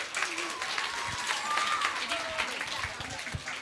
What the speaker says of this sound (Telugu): ఒకసారి క్లాప్స్ కొట్టండి, క్లాప్స్ కొట్టాలి